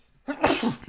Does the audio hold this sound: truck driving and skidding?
no